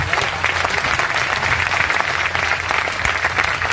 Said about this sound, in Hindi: आप जोरदार तालियां बजाओ, डीसी ऑफिस, रेवेन्यू ऑफिस के लिए